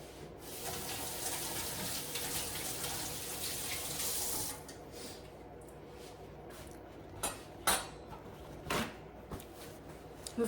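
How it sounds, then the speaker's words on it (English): A kitchen tap runs steadily for a few seconds while hands are washed beneath it, then the flow stops and a few soft splashes and clicks follow at close range. "Let me wash my hands"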